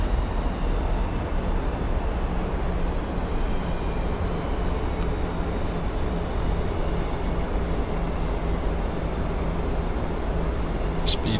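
Airliner engines drone steadily in the cabin during an RNAV approach to runway 08 at Juneau, a continuous broadband hum with faint tonal lines that stays even as the throttles are eased back.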